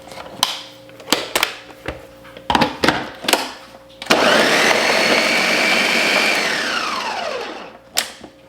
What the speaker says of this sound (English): I think we'll just do 1 blender full of broccoli today.